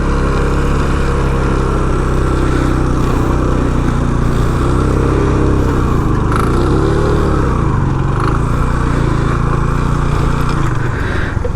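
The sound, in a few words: TVS Apache RTR motorcycle riding on sand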